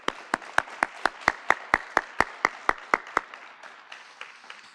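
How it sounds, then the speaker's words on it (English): Audience clapping at a grant ceremony, a quick run of about fifteen distinct claps in steady rhythm that then trails off, fairly faint and from a small crowd. "Let's give another big round of applause for WICS Home for Girls and Food Fort."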